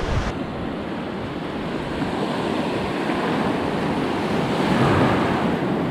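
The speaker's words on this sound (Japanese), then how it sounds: "こっちも波強いな" Strong waves surge over a shallow reef in Okinawa, a loud, continuous roar of breaking surf that swells toward the end, roughened by wind buffeting the microphone.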